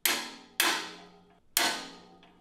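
Three sharp metallic hammer strikes on a go-kart steering part, evenly spaced about a second apart, each ringing briefly before fading, close and fairly loud.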